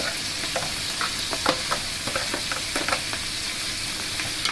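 Sliced onions and green chillies frying in hot oil, a steady close sizzle with light stirring scrapes and small crackles throughout, no talking.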